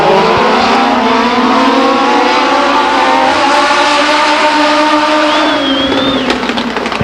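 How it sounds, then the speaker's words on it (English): Legend race cars running Yamaha engines roar around Stockton 99 Speedway as a pack, a loud sustained buzzing drone with shifting pitch as cars pass, steady throughout. "They're legend cars. They all run on Yamaha engines"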